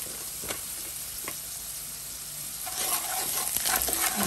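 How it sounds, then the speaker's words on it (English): Curry powder toasts in a pot for a lamb stew, giving a steady close sizzle that grows busier and louder partway through as stirring scrapes in. "we're gonna toast this curry"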